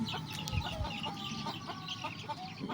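Chickens and a Seethuva breeding rooster cluck softly in the background, with occasional short calls over a faint, steady outdoor ambience.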